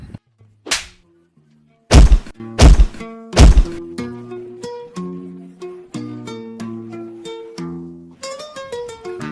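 Three sharp, loud slaps crack out in quick succession, then a light, plinking melody carries on alone with no voices.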